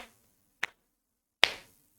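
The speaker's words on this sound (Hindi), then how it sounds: "एक तो हम बजाएंगे हल्की ताली" Two soft hand claps, well spaced and close, the second slightly louder, followed by a faint third tap in otherwise quiet surroundings.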